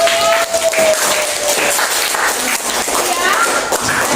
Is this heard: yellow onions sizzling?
no